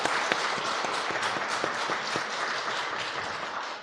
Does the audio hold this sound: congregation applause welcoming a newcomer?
yes